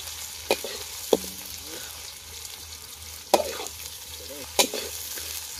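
Onions frying in a pan for chicken curry, a soft steady sizzle broken by several sharp scraping stir strokes, close by, with no talk.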